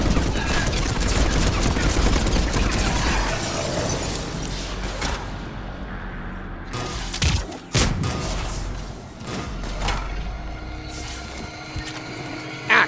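Rapid gunfire and bursts of explosions from the Omega DLC video game, loud and dense throughout, with a voice speaking over parts of the battle and brief lulls between volleys.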